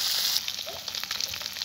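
Amudi fish fry in a hot pan with a steady sizzling crackle. A brief brighter hiss opens it, then it continues with scattered pops and spits, close and moderately loud.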